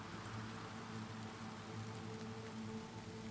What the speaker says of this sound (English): it still thinks I'm outside and it's raining